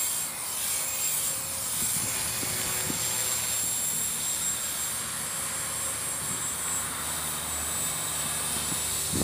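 A small T-Rex 250 RC helicopter fitted with a Helicommand HC3-SX stabilizer hovers outdoors in a steady breeze, its high-pitched rotor and motor whine continuous and steady throughout, with no talking.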